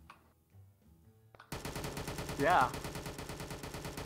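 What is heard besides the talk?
gunshots in VRChat prison escape game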